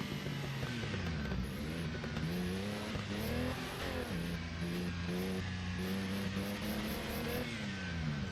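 A Porsche race car in the Assetto Corsa racing game drives into the pit lane, its engine note rising and falling in steady revving harmonics, with brief high squeals above, loud and continuous without speech.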